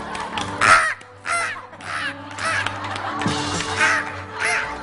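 On a Korean TV variety show, a voice imitates a crow with a series of loud, close, rasping caws in an uneven rhythm.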